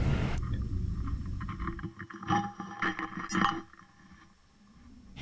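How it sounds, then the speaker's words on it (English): Wind blowing over salt formations and needles embedded in the salt in Death Valley, picked up through piezo contact discs: a low rumbling drone with scraping, creaking textures and brief ringing swells, fairly quiet and alone. "you're hearing the sound of wind blowing over salt formations and the sound of wind blowing over needles embedded in the salt."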